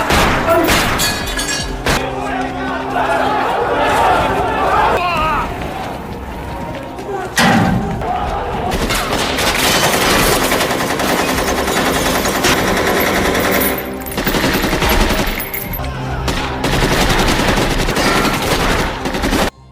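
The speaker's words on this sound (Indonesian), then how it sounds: "Saat masuk, mereka menembak setiap tahanan yang tidak berada di sel mereka." Sustained gunfire inside a Brazilian prison as police shoot prisoners, dense repeated bursts loud and continuous alongside a mixed background of voices or music-like layers.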